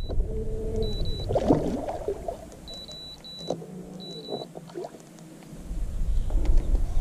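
An electric trolling motor on a bass fishing boat in a canal drones and whines steadily nearby, with faint beeps and splashy knocks over the top.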